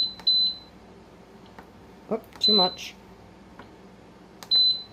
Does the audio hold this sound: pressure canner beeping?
yes